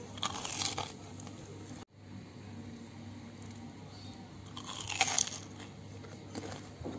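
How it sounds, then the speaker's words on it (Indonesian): Crisp, crackly bites into a crunchy sand-coated fried banana with crumbly topping, with crunch bursts near the start and again around the middle, close up over quiet room tone. "Seru banget kan dengerin renyahnya?"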